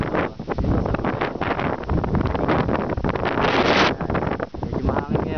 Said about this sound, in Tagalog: Medyo mahangin ngayon.